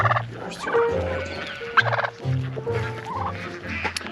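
Turkeys gobbling on a farm, several close, loud bursts of warbling gobbles overlapping one another in quick succession.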